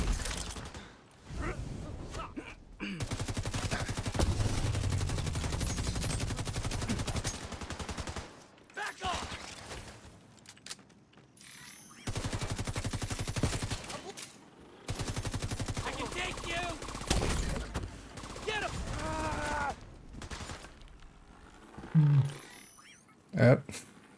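Automatic gunfire in a co-op PvE shooter erupts in long sustained bursts separated by short pauses, loud and close, with some grunts and game effects in between.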